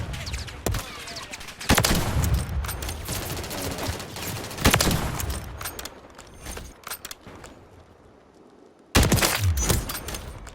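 Sniper gunfire in a video game: several sharp, loud shots at irregular intervals, separated by rumbling, clattering in-game background noise, with one final burst near the end.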